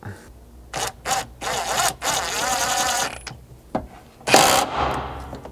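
A mounting screw and seatbelt bolt are refitted inside a Subaru Forester, sounding as short bursts of ratcheting and mechanical tool clicks separated by pauses, close and moderately loud.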